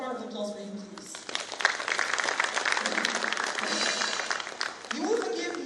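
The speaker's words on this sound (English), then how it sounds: "Another round of applause for him, please." Audience clapping at a security summit in Abuja, a moderate, fairly steady round of applause from a crowd in a hall, with some talk mixed in near the end.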